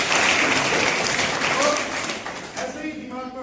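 A classroom crowd at a coaching session for IAS and RAS exam candidates breaks into a burst of clapping that fades after about two seconds, with a voice speaking over the tail.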